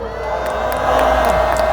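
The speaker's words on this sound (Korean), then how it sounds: "여러분께 큰 박수와 함성" A large crowd at a Gwanghwamun rally in Seoul, a protest calling for President Yoon Suk-yeol's resignation, cheers and shouts in a swelling wash of noise. A steady tone runs underneath.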